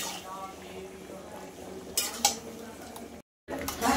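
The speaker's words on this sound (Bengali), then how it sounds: "চিকেনটা এখন কষিয়ে নেওয়া হবে।" Chicken is stir-fried with fried onions in a pan, with steady scraping and a faint sizzle, then louder spoon clinks against the pan near the end after a brief silent gap.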